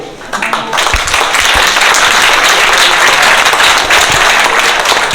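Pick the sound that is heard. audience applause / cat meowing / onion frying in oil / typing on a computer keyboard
audience applause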